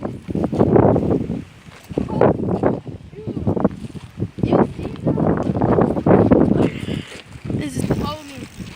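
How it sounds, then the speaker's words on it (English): Strong wind blowing outdoors by the Colorado River, buffeting the microphone in loud gusty bursts while people talk. "It's really windy out here."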